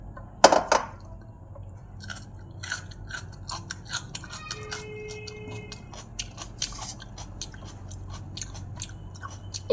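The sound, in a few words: chewing fire-roasted onion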